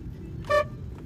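A water-damaged car horn gives one short, thin, reedy toot like a rickshaw horn, standing out clearly over a low background rumble.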